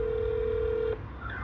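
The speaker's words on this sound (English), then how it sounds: "You're going to hear some ringing." Ringback tone on a phone line while a call is being transferred: one steady electronic tone holding for about a second and then cutting off, followed by faint line noise and a brief chirp.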